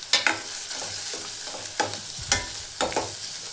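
Cinnamon and cloves frying in oil for a sprouted horse gram sambar, a constant crackling hiss punctuated by several sharp stirring scrapes against the pan.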